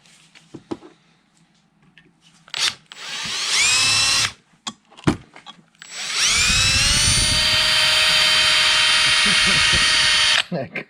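A power drill bores holes into a half-inch-thick stock piece of aluminum, with two bursts of rising motor whine, a short one and then a longer sustained run, separated by clanks, handling noises and brief voices.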